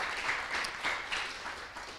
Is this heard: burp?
no